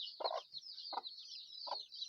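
Chickens cluck softly in three short, separated calls near newly hatched chicks, close but quiet, with a steady high chirping running underneath.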